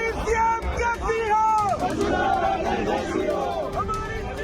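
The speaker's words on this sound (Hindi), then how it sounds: "भीड़ है, नारे हैं," A crowd at a Rajasthan political rally for Vasundhara Raje chants slogans in loud, rhythmic unison, with voices rising and falling together close by.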